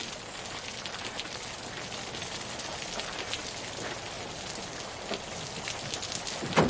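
Steady rain falling outdoors, a dense, even patter of drops on surfaces throughout, with no talk.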